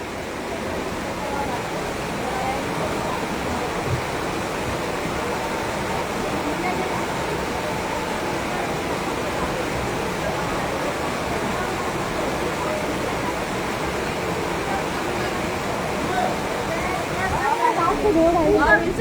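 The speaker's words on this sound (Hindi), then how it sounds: "ये इस समय जो नाला बह रहा है" Flood water rushes through a drain in Haldwani, a broad, steady, loud roaring hiss that continues throughout and swells slightly near the end.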